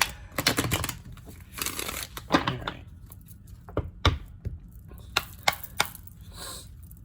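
Quick bursts of riffling and sharp snapping clicks come close by, irregular and choppy, as tarot cards are shuffled, with a brief spoken word near the start.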